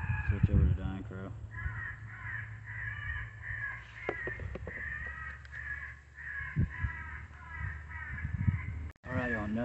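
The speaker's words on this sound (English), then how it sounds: "Switch over to dying crow." Dying crow distress call played through an electronic game caller during a windy Indiana crow hunt, a repeated wavering caw series at moderate distance over steady wind noise, with a brief cutout near the end.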